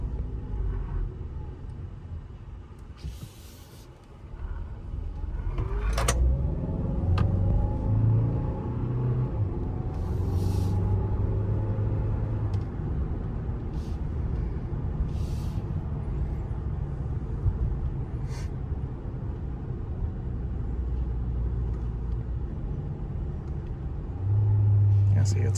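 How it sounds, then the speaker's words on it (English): A Hyundai hybrid SUV with a 6-speed paddle-shift transmission, driven in sport mode, gives a steady, moderately loud cabin rumble with a slight rise as the engine pulls, heard continuously from inside the car. "Sometimes the engine's a little louder, a little less refined sounding."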